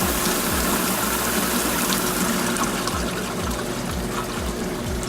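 Water from a waterfall fountain runs through a small nozzle in a steady rushing stream, with a repeating low pump thump pulsing underneath, close and fairly loud.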